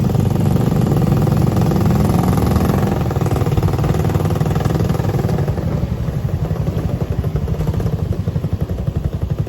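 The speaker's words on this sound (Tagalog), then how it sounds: "Dalawang motor yung gamit namin, Gar." Motorcycle riding, one of two bikes in use, gives a continuous close engine drone with a rapid pulsing throb and some clatter, holding fairly even throughout with no talk.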